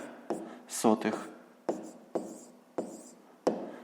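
A pen writes numbers by hand on paper, giving a series of short, close scratching strokes with pauses between them, with speech heard faintly in the background.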